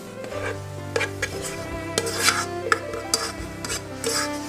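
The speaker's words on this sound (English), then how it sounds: "I'm choosing to add my rice to it so it's a one pot meal" Rice is added to a one-pot Cajun chicken and stirred, giving close scraping and rasping strokes against the pot in an uneven rhythm, with faint sizzling beneath and no talking.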